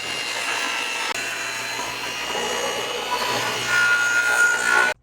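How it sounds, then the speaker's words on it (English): A tool cuts a small square out of a wooden board for a garden hose storage planter box. It makes a loud, steady grinding whine that runs without a break and stops abruptly at the end. "And then I might just cut this out a square just a little bit"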